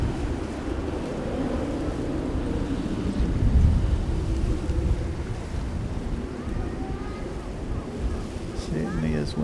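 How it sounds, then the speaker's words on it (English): Wind at Narita Airport in Japan buffets the microphone, a continuous low rumbling roar that swells in gusts and then settles, with faint background sounds near the end. "Certainly is windy."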